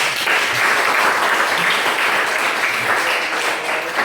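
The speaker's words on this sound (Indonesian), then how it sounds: "tepuk tangan dulu" Classroom applause from students during a chemistry lesson, a steady dense wash of clapping lasting about four seconds at an even level.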